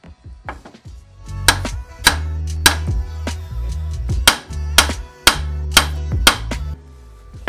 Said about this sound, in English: So we're gonna tap this side of the knuckle until it falls through.